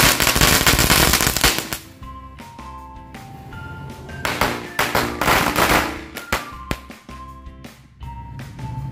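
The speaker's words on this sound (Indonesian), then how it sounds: "Selanjutnya kita coba mercon korek Smoke 1 asap Aladin warna merah" Red Aladin smoke match firecrackers burst in a loud volley, with sharp cracks and pops crowding together at the start, then thinning into scattered bangs, some close and some lighter, over a steady hiss across nine seconds.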